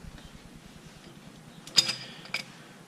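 Oil drain plug being tightened on a Honda Civic Si, heard as a soft run of close ratchet clicks followed by two brief, louder metallic scrapes and clanks, with no talking.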